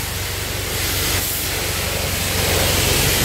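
Car wash pressure sprayer rinsing a car, a loud continuous hiss of spraying water close by with a rapid pulsing pump throb underneath.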